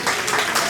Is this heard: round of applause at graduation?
yes